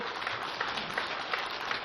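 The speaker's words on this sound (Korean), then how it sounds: "그냥 박수 소리가 막 나오네요" A lecture hall audience breaks into brief applause, a dense, even wash of many hands clapping at once without a clear beat.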